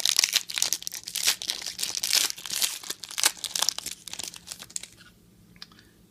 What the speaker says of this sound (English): Alright, let's open up the Elite.